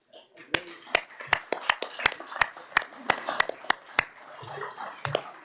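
Committee members at the close of a council select committee meeting clap in a sparse, uneven burst of about a dozen distinct sharp claps, close by in a quiet room, with faint murmuring underneath.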